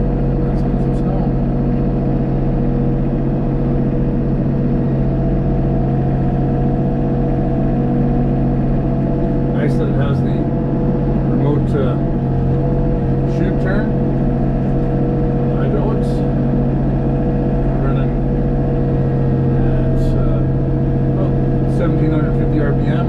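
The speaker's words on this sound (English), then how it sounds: "I turned the blower on. Let's get a little more RPMs up. Let's get some snow." A tractor-mounted snow blower runs at rising RPM and throws snow, a loud, steady engine drone with constant low hum heard from inside the cab, while someone talks over it throughout.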